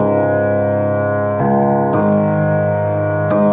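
Piano playing the left-hand part of a song with the sustain pedal, rich ringing low chords changing a few times and blending together, loud and close, no voices.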